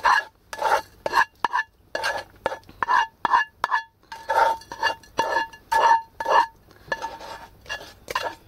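A spoon scrapes and clinks against a bowl in quick, repeated strokes as a curried mushroom mixture is transferred, each close, bright tap separated by short gaps of near silence.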